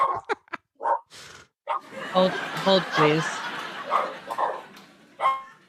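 A voice imitates a dog's bark among a few short woofs, mixed with laughter and speech in a lively room.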